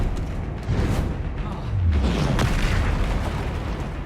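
Repeated blasting-spell explosions in the Hogwarts Legacy game, booming, low-heavy bursts in a dense combat mix, with a heavy impact near the middle and a rumbling tail.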